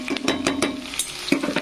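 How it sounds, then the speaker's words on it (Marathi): Onion and chilies fry in hot oil for a masala pulao. Quick scraping stirs clatter against the pan in a rough rhythm over a low hum and faint sizzle, with no talking. "कांदा फ्राय झालाय असा, मिरच्या पण थोड्या तळल्याचा, कारण तेल तापलेलं होतं ना"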